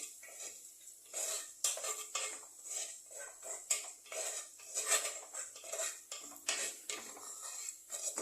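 An onion rubbed around the inside of a clay pot with oil during traditional seasoning: repeated close scraping and clinking rubs in an uneven rhythm, fairly loud and unbroken by speech.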